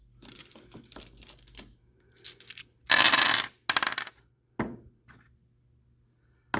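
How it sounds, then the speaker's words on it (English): A large handful of dice is rolled onto a table during a tabletop wargame, giving bursts of rapid clattering and rattling, one loud tumbling spill, and a few sharp knocks as the dice settle, with no talk. "I just rolled a whole shit ton of dice."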